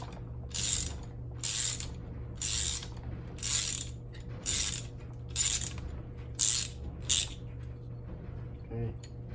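Ratchet socket wrench loosening a 3/8 bolt on a Toro mower engine during a rebuild: eight rapid ratcheting bursts in a steady rhythm, close and loud over a constant low hum.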